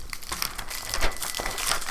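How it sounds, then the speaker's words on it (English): Plastic packaging on a Dragon Ball Super card game demo deck crinkles and crumples as it is opened, a steady close rustle of tearing wrapper lasting two seconds with no talk. "let's open these half decks up and see what we got inside"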